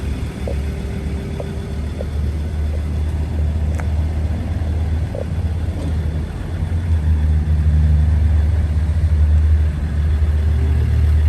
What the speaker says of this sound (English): so you can listen up to the motor, to the rear of the vehicle